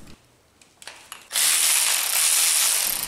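A ratchet wrench works a bolt loose on a Miata engine fitted with an aftermarket turbo, near the power steering pump. A few faint clicks give way to a loud, sustained run of rapid ratcheting close by.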